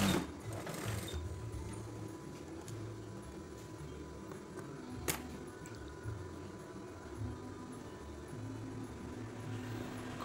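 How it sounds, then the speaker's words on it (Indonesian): A sewing machine stitches the collar of a scout uniform, a steady low mechanical whir and rattle running continuously and fairly faintly, with a few small clicks along the way. "Kemudian kita tinggal jahit yang bagian ke bawahnya ya teman-teman."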